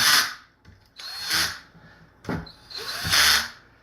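A power screwdriver set to torque 1 is tightening nuts on Vruzend caps of an e-bike battery. It gives four short, close whirring bursts, each starting and stopping sharply, with quiet gaps between them.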